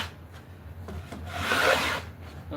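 A hand plane scraping across century-old wood, a single rasping stroke that swells in the middle and tapers off, close and fairly loud with no talk.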